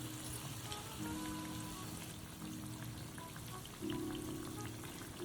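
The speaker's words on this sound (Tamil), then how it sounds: "எண்ணெய் நல்லா குடிச்சுன்னு இந்த ஓசை அடங்கின பிறகு பஜ்ஜி வெந்துட்டுருக்கோம்." Appalam bajji frying in hot oil, a steady close sizzle with bubbling crackle that keeps going and swells louder partway through.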